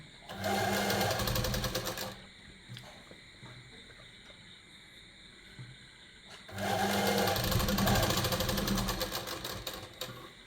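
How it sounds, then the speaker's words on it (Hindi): A sewing machine stitches the lower pocket section of a men's kurta in two loud, close bursts of rapid whirring needle chatter, separated by a quieter pause of a few seconds. "ये दूसरी तरफ जेब के नीचे वाला हिस्सा हम सिलाई कर रहे हैं।"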